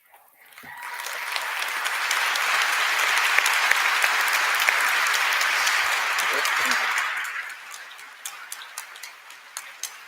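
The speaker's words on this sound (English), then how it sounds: "show your appreciation to those who have supported you by way of applause" After a brief hush, a hall of 2018 business and technology graduates bursts into broad applause that holds steady for several seconds, then tapers to a few scattered claps near the end.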